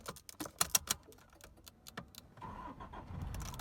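A 2016 Toyota Hilux G 4x4 double-cab pickup with a 2.5-litre diesel and manual gearbox is started: key clicks and cranking, then the engine catches and settles into a steady idle rumble.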